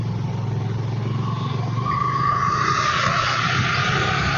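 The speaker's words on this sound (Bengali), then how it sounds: "এখান দিয়ে গাড়ি ঘোড়া একদম অনেক ভালোই চলে" Vehicles rumble along a narrow neighbourhood lane, with a steady engine drone and road noise close by and a rising whine partway through, and no voices.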